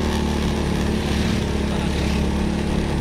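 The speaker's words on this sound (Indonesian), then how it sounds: "Dan jalan ini nanjak. Eh, motornya kuat." A motorcycle engine pulls up a steep, narrow mountain road toward Panyaweuyan in Majalengka, giving a continuous, fairly loud labouring drone with no one talking.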